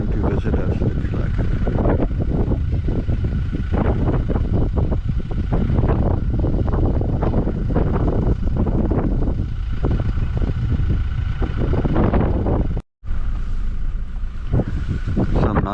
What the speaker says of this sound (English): Quite a windy morning and quite cold.